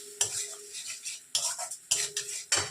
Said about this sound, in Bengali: এবারে এটাকে ভালো করে কষিয়ে নিচ্ছি।